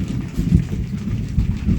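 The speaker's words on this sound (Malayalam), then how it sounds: "ഇവിടെ നല്ല മഴ ഇടിയൊക്കെ വരുന്നുണ്ട്" Steady rain with a deep low rumble of thunder rolling underneath, heavy and continuous throughout.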